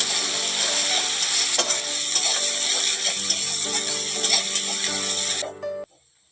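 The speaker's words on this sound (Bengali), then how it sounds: "রসুন আর পেঁয়াজটা খুব ভালো করে ভেজে নিয়েছি" Garlic and onion frying in hot oil in a pan, a loud continuous close sizzle with scraping stir strokes that cuts off abruptly near the end.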